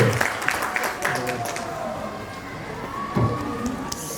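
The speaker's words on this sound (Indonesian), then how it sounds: "Kita kasih aplaus untuk tim B." Scattered clapping from a school quiz-competition audience, applauding a team in a semifinal round, moderately close and mixed with a steady murmur of voices and room noise.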